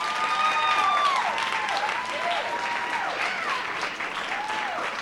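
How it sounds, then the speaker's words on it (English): An audience at a school board meeting applauds steadily in a sustained round of clapping that fades slightly toward the end, with some voices mixed in. "if we could give them a round of applause"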